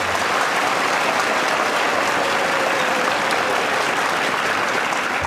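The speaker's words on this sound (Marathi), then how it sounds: "तुमच्या टाळ्या." Audience clapping at a live gathering, a thick continuous wash of many hands that stays loud and even from start to finish.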